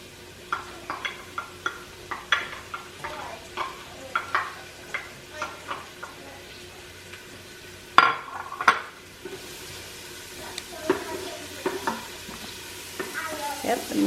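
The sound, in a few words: onions being stirred and frying in a pan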